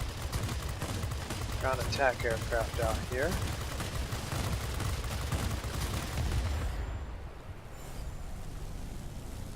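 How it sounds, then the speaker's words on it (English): Rapid bursts of P-38F Lightning cannon fire in World of Warplanes, dense and continuous over engine roar, with someone speaking briefly during the shooting. "Cannons do overheat, but you can see that you can get a pretty good amount out of them before they do."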